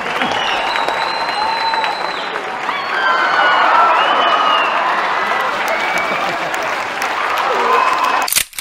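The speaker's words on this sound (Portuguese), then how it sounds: "eu queria que vocês recebessem com uma salva de palmas Vitor Amaro e Léo Ferreira" Comedy show audience clapping and cheering to welcome guests Vitor Amaro and Léo Ferreira, a loud sustained burst of applause with whoops and shouts rising in the middle, then cut off abruptly at the end.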